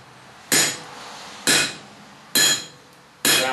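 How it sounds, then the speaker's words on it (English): Four sharp, loud hammer blows ring out on a piece of steel at a forge, evenly spaced about a second apart, each with a brief metallic ring that fades. "all you're doing is taking the hammer and throwing it"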